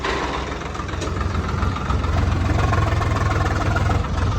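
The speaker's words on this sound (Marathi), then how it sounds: "हे देखिए नुसता ट्रॅक्टर फसतोय." A tractor engine stuck in water-logged ground keeps running at a steady, heavy low rumble, close and continuous, with no speech over it.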